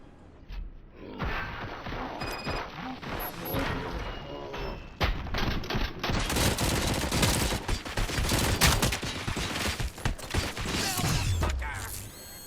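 Bursts of gunfire and heavy mechanical clanks fill a Robocop Rogue City firefight, with rapid volleys and thuds coming loud and close after a quieter opening.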